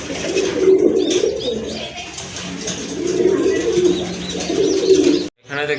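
Short-beaked pigeons kept for sale coo in deep, rolling bursts that repeat in waves close by, with someone talking over them throughout.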